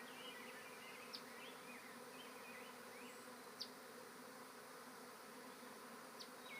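Honeybee swarm outdoors, a continuous soft, even buzz of many bees droning together, with a few individual bees zipping past closer by.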